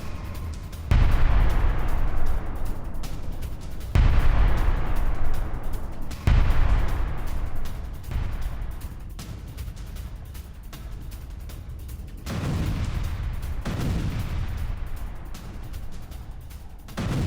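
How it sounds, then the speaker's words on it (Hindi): Repeated large explosions from attacks in Crimea, news footage of blasts at places such as an airfield: several heavy booms a few seconds apart, each a loud sudden burst trailing into rumbling, crackling noise. "फियोदोसिया और रोजडोल्ने में भी विस्फोट हुआ है।"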